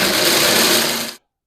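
Food processor grinding unroasted nuts into a fine meal, a loud, harsh whirring roar held steady for just over a second before stopping abruptly.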